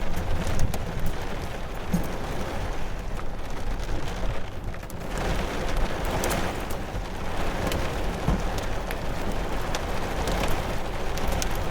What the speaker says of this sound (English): There's definitely hail out there.